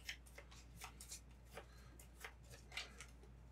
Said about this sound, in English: Shuffle your discard pile.